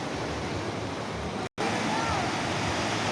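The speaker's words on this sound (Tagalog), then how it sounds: "Pagmasdan mo ang alon ng dagat mga boss" Sea waves on a white-sand beach make a constant broad rushing roar, steady and full with no distinct breaks, except for one very short dropout partway through.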